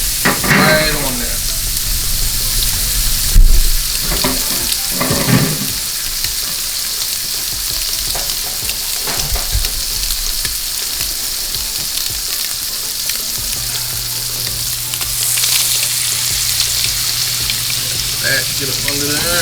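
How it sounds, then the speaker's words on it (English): Blackened redfish fillets sear in a scorching hot pan, giving a loud, steady sizzle and crackle that runs throughout, with a few brief clanks along the way. "We want it scorching hot so it will sear those seasonings"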